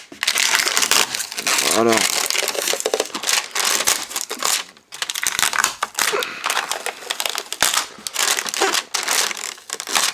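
Tinted window film is peeled off an Audi window, a loud, close crackling and crinkling tear that runs almost continuously with brief pauses, while a voice speaks briefly.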